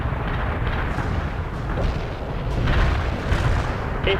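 Airstrike explosions in the video game World in Conflict, heard as a continuous heavy rumble of overlapping booms and blasts, loud and sustained without a break, with no voices.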